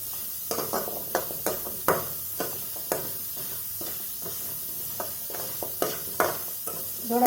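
Grated coconut with cinnamon sautéed in a pan for mushroom kurma, giving a soft, low sizzle under a string of sharp, regular scrapes and taps as a spoon stirs it, close by and with no voices.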